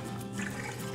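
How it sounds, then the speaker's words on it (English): Soda water pours steadily into a glass of Campari, giving a continuous close fizzing, splashing trickle at low volume with no talk. "And then some soda water"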